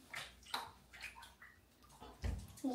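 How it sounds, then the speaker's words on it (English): A young girl walks and splashes in bath water, giving scattered sloshing and light watery splashes close by, with people talking intermittently over them. "She just walking in the water."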